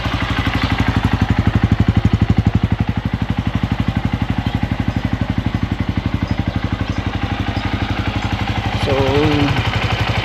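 A very dirty motorcycle with a freshly oiled chain runs steadily at idle in the Cordillera mountains, a close, continuous pulsing engine throb, with a brief spoken word over it.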